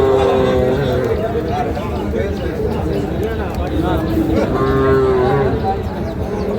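Shahiwal bull calves and other cattle moo repeatedly at a busy village livestock market, the lowing close and loud over steady crowd babble and ongoing talk.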